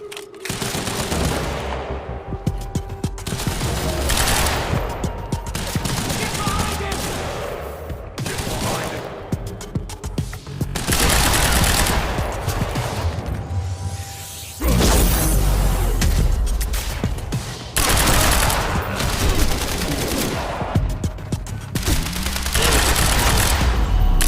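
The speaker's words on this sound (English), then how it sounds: "The civvies heard gunfire." Bursts of rapid gunfire and automatic weapon volleys ring out repeatedly in the video game Quantum Break, loud and sharp, with short pauses between clusters.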